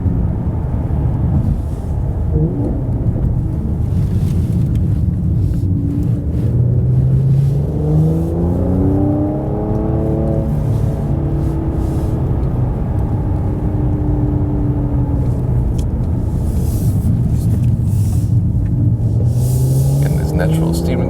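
A Mercedes-AMG C43 driven hard through corners, its engine rumbling loudly and rising and falling in pitch as it revs through gears, with a steady road roar underneath and someone talking over it.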